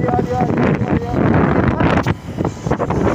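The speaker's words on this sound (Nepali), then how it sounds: "हाम्रो बाइक चलिरहेको छ" A motorbike ride outdoors on a road with heavy wind buffeting the microphone, a loud continuous rushing roar that masks most other sound.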